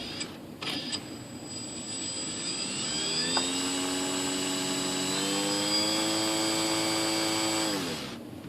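An electric motor with folding propeller blades on a 2.6 m composite ASH26 RC sailplane, driven by its ESC in a bench test, spins up with a rising whine, holds a steady loud tone for several seconds, then winds down.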